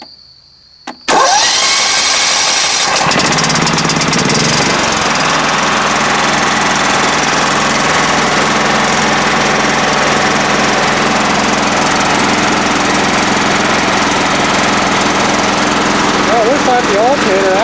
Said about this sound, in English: and now we'll crank it over.